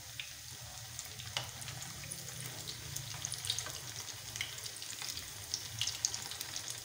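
Chicken shami kabab frying in a pan, a steady low sizzle with soft crackles and faint spatters running continuously at moderate volume, no voices.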